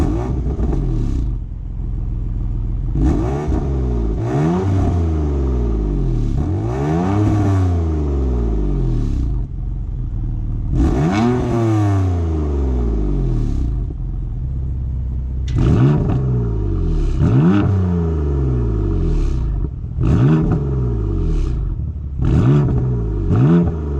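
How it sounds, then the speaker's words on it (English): A 2016 BMW M3's S55 engine in Sport Plus mode revs repeatedly, each blip rising sharply in pitch then falling away, loud and close, with a deep rumbling idle between. "rev the engine and just sport"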